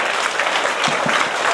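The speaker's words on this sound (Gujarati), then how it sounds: "આપણે તાળીઓના ગડગડાટથી આ બાળકોને શાળાએ આપી છે ભેટ" Applause from a school gathering honoring children, a dense steady wash of many hands clapping close by, continuous throughout with no speech over it.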